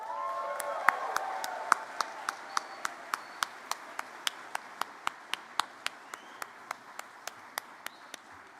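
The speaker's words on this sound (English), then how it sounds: "congratulate our graduates with a huge round of applause" A convocation audience for engineering technology, applied science, sustainability and design graduates applauds briefly, then one pair of hands keeps clapping alone in a sharp, evenly spaced rhythm that carries on steadily, moderately loud in a reverberant hall.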